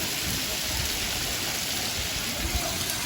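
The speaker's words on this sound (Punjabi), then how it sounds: "ਬਹੁਤ ਜ਼ਿਆਦਾ ਬਹੁਤ ਜ਼ਿਆਦਾ ਮੀਂਹ ਪੈ ਰਿਹਾ" Steady heavy rain hisses evenly throughout, a dense broadband wash with occasional low thumps, no voices present.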